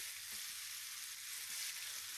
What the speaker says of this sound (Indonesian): kita goreng sampai kering ya sampai warnanya kecoklatan merata